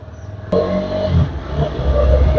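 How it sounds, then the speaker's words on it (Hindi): A motorbike's engine drones steadily under hard acceleration as the rider shifts gears without using the clutch. A sudden jump in loudness marks the engine surging, then the sound holds close and continuous. "गाड़ी तो बिना क्लच के मैं गियर चेंज कर रहा हूँ"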